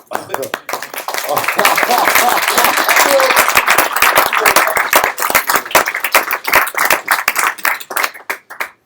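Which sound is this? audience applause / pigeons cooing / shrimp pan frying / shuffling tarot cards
audience applause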